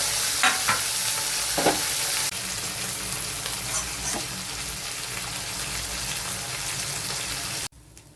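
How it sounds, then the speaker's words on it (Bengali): Small fish fry in hot oil in a kadai, a steady close hiss and crackle of sizzling that runs loud and unbroken, easing slightly partway through before cutting off near the end. "এবার আমি একে একে মাছগুলোকে ভেজে নেব।"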